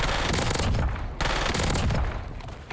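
A submachine gun fitted with a compensator fires in a video game, two long rapid bursts of close, loud automatic fire separated by a brief pause.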